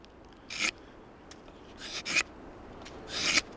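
A survival knife shaving wood, heard as three short rasping scrapes at close range with pauses between them, the last stroke longest and loudest.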